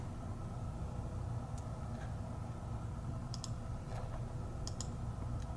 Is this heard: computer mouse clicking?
yes